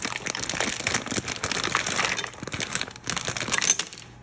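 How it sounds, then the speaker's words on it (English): Dry pasta spills in a rapid, dense clatter of small hard pieces scattering and skittering across a hard floor, continuing for several seconds. "That noise is pasta falling all on the floor."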